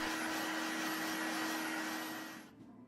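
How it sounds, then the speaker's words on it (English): A vacuum cleaner removing sanding dust from a rough-sanded surface runs steadily with a whining hum and broad rushing noise, then winds down near the end. "I go over the rough sanded surface with a vacuum to remove any residual sanding dust."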